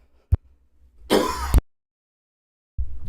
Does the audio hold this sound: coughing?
yes